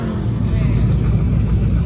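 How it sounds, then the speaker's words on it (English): A Ford Fox body Mustang engine rumbles and revs at a busy modded car meet, a loud steady low drone with people talking over it. "Well, the Fox body Mustang still sounds good."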